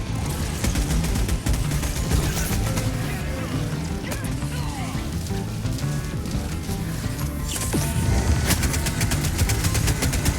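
Rapid, continuous automatic gunfire from exosuits in a video game battle against a hive lord, dense and loud throughout over a rumbling engine-like background.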